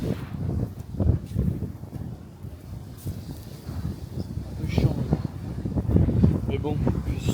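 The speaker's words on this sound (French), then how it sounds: "Et, toujours du vent." Wind buffets a microphone at a beachfront villa in the Bahamas, rumbling in low gusts of uneven strength that rise toward the end, while a person talks over it.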